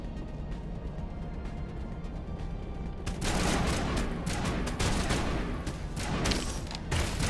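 A quiet hum gives way to a dense firefight of overlapping shots from a sniper and enemies in Mass Effect Legendary Edition, crackling steadily for several seconds at moderate loudness with no voices.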